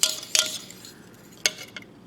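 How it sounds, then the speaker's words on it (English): Cream cheese being mixed by hand with a big salad fork in a bowl, giving a few sharp metallic clinks and scrapes spaced apart, close by with no talking. "mix it together without too much hassle, without having to get the beater out"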